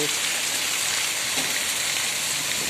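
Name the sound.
heavy rain falling in a village street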